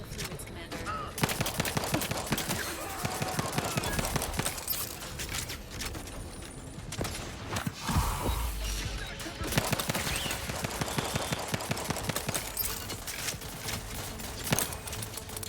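Rapid gunfire in the video game Outer Worlds 2, dense bursts of repeated shots with a brief lull mid-way, loud and continuous over a busy game soundscape.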